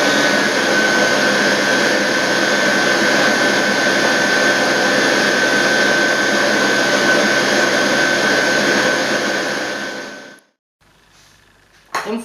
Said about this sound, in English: we're creaming the butter with the sugar